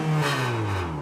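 Honda Odyssey minivan engine revving as the gas pedal is pressed, a loud close rising roar held for about a second with a steady tone.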